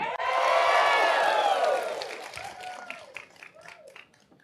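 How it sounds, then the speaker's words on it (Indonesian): Audience applause and cheering at an Indonesian political event, a loud burst of clapping from a crowd that swells quickly, holds, then tapers off into scattered claps over the last couple of seconds. "Tepuk tangan dulu."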